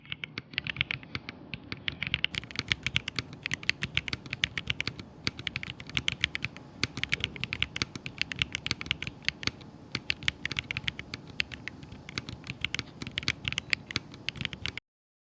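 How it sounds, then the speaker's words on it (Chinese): Brisk, continuous typing on an Ariya 75 aluminium-cased mechanical keyboard, with close, crisp keystrokes in a dense rapid patter and no voices. "那接下来简单给大家来一段打字音。"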